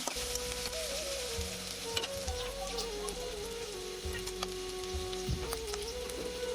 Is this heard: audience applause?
no